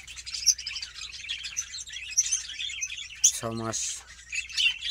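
A colony of young parrots, about five to six months old, keeps up a busy stream of chirps and tweets with a sharper squawk near the middle, while someone talks over them.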